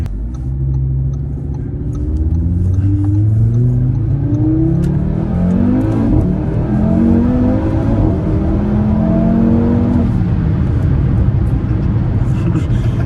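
An Audi RS3 using launch control revs hard and climbs through several gears, pitch rising and dropping at each shift, loud and close throughout.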